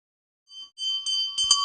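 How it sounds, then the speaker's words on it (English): A small hand bell rung during an incense offering in a devotional ritual, its bright metallic tone building from a few soft strikes into steady, close ringing, heard alone. "please ring the bell as you do so"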